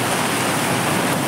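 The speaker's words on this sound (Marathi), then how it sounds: "बघा किती पाऊस येत आहे इकडं" Heavy rain pouring down outdoors near a vegetable vendor's auto, a dense, steady broadband wash of water sound that holds at constant loudness throughout, with no talking.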